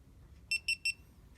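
Three quick, high-pitched Bluetooth connection beeps from a Sena Bluetooth Audio Pack for GoPro, in a rapid even sequence, clean and close, over a faint low background hum.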